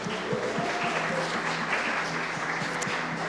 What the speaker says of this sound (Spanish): Damos un aplauso a ellos